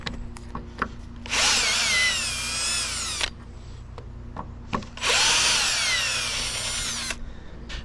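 A power drill backing screws out of the wooden base of a tent platform, two long whining bursts of about two seconds each, close and loud, with brief clicks and knocks between them.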